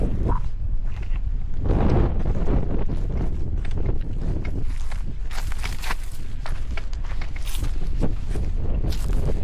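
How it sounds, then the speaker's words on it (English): Strong wind roars into the microphone without letup on a Wyoming mountain, a heavy low rumble with rustling and buffeting gusts throughout. "Super windy."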